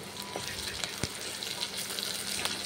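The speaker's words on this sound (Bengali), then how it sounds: "তারপর পেঁয়াজগুলোকে ফ্রাই করে নিচ্ছি সর্ষে তেল দিয়ে।" Onions fry in mustard oil with a faint, steady sizzle and scattered crackles and pops, heard alone without talk.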